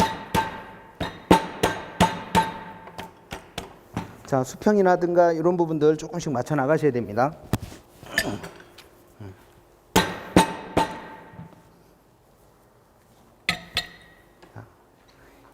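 A rubber mallet taps a steel pipe assembly in sharp, repeated knocks, grouped in quick bursts with pauses between them, while someone talks over the work for part of the time.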